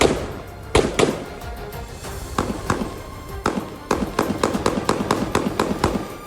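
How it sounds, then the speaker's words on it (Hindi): Rapid gunfire during an armed raid, sharp cracks spaced irregularly at first, then a dense run of quick successive shots echoing across the area, loud and without speech. "ये गोलीबारी लंबी चली और पूरा इलाका गोलियों की तड़तड़ाहट से गूंज उठा।"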